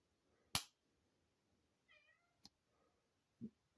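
A cat gives a short, quiet meow amid a few sharp clicks and taps in an otherwise quiet room.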